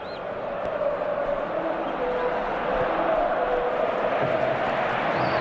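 Capacity stadium crowd of just over 80,000 at a Real Madrid versus Barcelona football match, a steady, dense roar of massed voices filling the whole stretch without a break.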